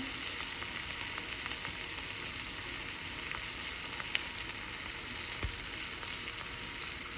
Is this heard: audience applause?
no